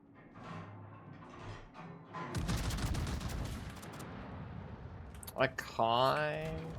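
Heavy warship gun salvos in a World of Warships naval battle, a dense rumbling barrage of blasts lasting several seconds, followed by sharp closer booms and a rising mechanical whine, with someone talking over the start.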